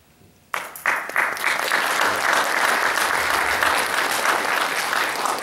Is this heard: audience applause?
yes